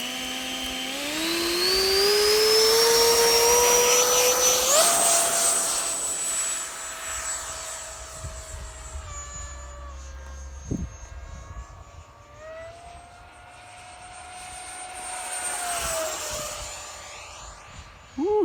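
A model P-51 airplane's motor screams in a rising, falling whine as it makes a low pass, loud and close then Doppler-shifting away before building again.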